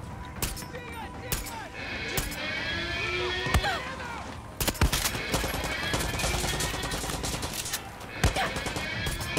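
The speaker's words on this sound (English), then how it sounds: "Someone's shooting." Scattered gunshots crack through a Far Cry 6 game scene, sharp bursts spread across the clip over a busy bed of water, boat noise and background voices.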